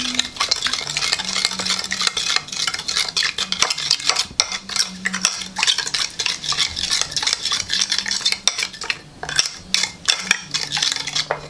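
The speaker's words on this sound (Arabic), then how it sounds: "غادي نخلطو الجميع،" Spoon clattering and scraping steadily against a bowl while salad sauce ingredients, including cumin, are mixed together, a busy close-up rhythm of stirring with no voices.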